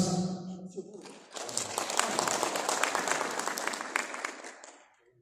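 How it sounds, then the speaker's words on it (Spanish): An Aymara community gathering in the highlands claps loudly after a woman from the Muqueche community gives her name. A voice speaks at the start, then a crowd bursts into dense clapping that swells, holds and fades away. "Altas palmas."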